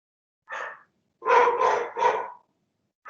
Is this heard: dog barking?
yes